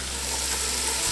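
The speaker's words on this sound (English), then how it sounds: "Ah, you hear the sizzle?" Vegetables, pepper and garlic, sizzle in butter in a pan, a steady bright hiss close by with no talking.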